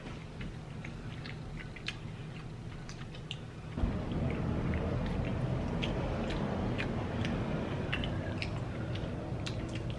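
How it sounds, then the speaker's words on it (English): Close, steady chewing of crunchy fried meat (fritura de carne, a mixed fry), with crisp bites and wet mouth sounds; it is quieter at first, then louder and denser after a few seconds. "I'm sorry, I know I'm chewing hard"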